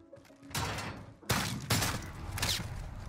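Loud, close shotgun blasts in a Modern Warfare match, several heavy booms with rattling mechanical noise between them, each followed by a sustained roar, with no talk.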